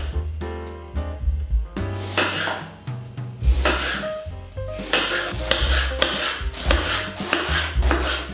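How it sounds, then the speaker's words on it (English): A knife cutting eggplant into slices on a board, a series of irregular close chopping thuds and scraping strokes with faint clinks, no voices. "Let's start with our eggplant. We cut some slices."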